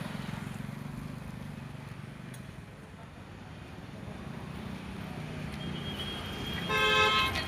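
Steady roadside traffic streams past a busy road, a continuous loud rumble of passing vehicles, with horn toots rising toward the end.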